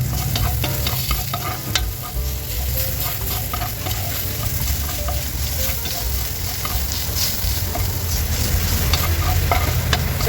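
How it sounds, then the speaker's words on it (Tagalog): Garlic sautéing in a hot pan, a dense continuous sizzle with a few soft utensil scrapes, close and steady for the whole stretch. "Gigisa na natin guys yung ating bawang."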